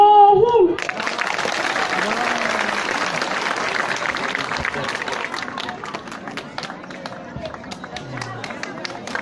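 An audience claps for a young girl, an LKG student, after her speech, with sustained applause and crowd noise that rises sharply after the first second and then holds steady.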